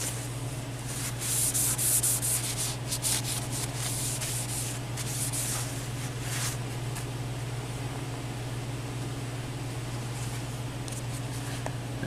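A rag with a little alcohol rubs a machine part clean for several seconds, a close, steady scrubbing hiss over a constant low electrical hum from the shop.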